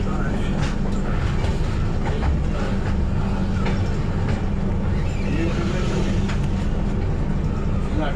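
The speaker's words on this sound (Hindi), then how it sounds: "चलिए क्रॉस हो गई है अपनी हावड़ा मुंबई छत्रपति शिवाजी महाराज टर्मिनस।" A Howrah–Mumbai CSMT express rushes past on the adjacent track, a loud, continuous close roar with rumbling wheel noise heard from inside a moving train, with voices faintly mixed in.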